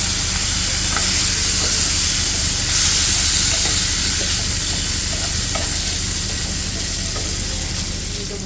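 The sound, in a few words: swordfish pieces added to pan, sizzling and stirred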